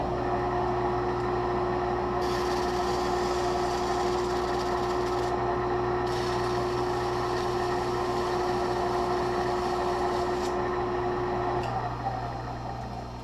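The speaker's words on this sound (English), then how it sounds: "find a stick or something and do a little polishing on that" A lathe runs with a steady, close mechanical hum while a scrap of plywood is held against the spinning metal part to polish it, adding intermittent brighter rubbing hiss.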